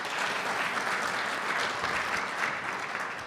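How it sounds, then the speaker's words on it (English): Sustained audience applause for a sponsor at an energy speaker-series event, steady and dense from start to finish at an even level, with no voices over it. "Round of applause, Veritas."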